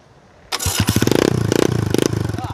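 A motorcycle engine cranks and catches, then settles into a loud, steady chugging idle with rapid rhythmic pulses, close by.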